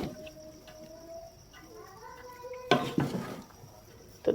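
Jaggery rice being stirred in a cooking pot, with a few clattering scrapes and knocks of the spoon against the pot near the end, over faint background hum and no talking.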